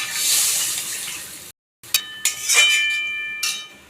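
Water pours into a cooking pot for hilsa fish curry with taro, a steady hissing stream for about a second and a half, followed after a short break by light clinks and sizzling.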